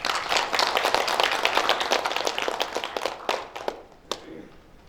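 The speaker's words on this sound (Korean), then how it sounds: "박수 부탁드립니다" An audience at a journalists' day ceremony applauds, dense steady clapping from a crowd in a hall that holds for several seconds and then thins out into a few scattered claps.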